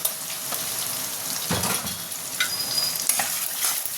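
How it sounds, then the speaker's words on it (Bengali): Spice paste frying in a pan with turmeric, salt and cumin powder for a fish curry, a steady close sizzle with scraping stirring strokes and one louder scrape partway through. "দিয়ে মশলাটাকে ভালো করে কষিয়ে নিই"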